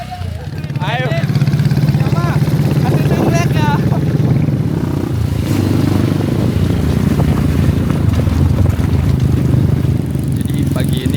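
Trail motorcycle ridden over rough, disaster-damaged terrain in Aceh, its engine a steady loud drone throughout with wind and road noise, while voices call out briefly near the start.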